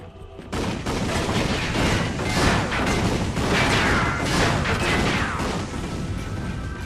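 Rapid bursts of combustor weapon fire from the Ratchet & Clank All 4 One video game, a dense, continuous barrage of blasts and impacts lasting several seconds.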